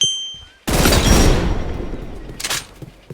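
A subscriber-built gun in a video game fires a loud sudden burst that rings out and decays, followed by a second sharper shot about two seconds later, with no talking.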